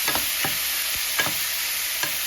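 Pupusa filling being stirred with seasoning and pepper, a few distinct scraping strokes repeating over a steady loud hiss, close and with no voices.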